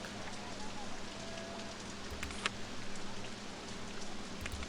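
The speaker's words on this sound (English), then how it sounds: "It's raining already." Steady rain falling in the theme park game OpenRCT2, a constant soft hiss of drops throughout with a voice speaking over it.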